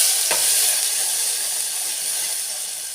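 Asafoetida and crushed chili paste dropped into hot oil in a pot, a bright steady hiss and sizzle close by with a brief stir near the start, slowly easing over a few seconds.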